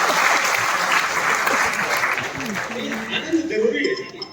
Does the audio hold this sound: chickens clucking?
no